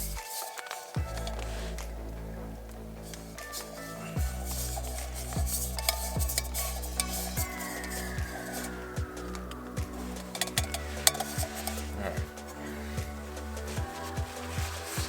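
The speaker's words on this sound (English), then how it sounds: "I'm going to pour it into the pot and kind of stir it around" Oil being stirred around inside a pot and spread up its side walls, making a steady, close scraping and squishing swirl that runs throughout without talk, with a few brief louder clinks along the way.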